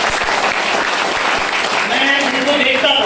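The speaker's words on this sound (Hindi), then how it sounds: "एक बार ताली में जोरदार उनके लिए चाहूंगा।" Audience applause during a motivational business speech, broad steady clapping from a crowd filling the whole moment with no gaps.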